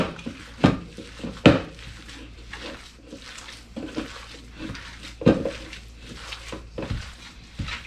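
Hands squish and knead a raw albondigas meatball mixture in a bowl for Mexican soup, with soft wet pats and occasional sharper knocks against the dish in an irregular rhythm.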